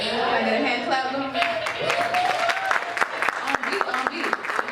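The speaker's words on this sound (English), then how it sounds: "Can I get a hand clap going?" Audience clapping at a live speaking event, sharp claps becoming more rhythmic and spaced after the first seconds, with talk and crowd voices underneath.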